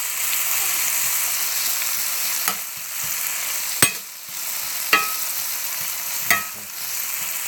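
Breakfast sausage hash frying in a pan, a steady close sizzle with a few sharp scraping stirs of the spatula cutting in at intervals, and no talking.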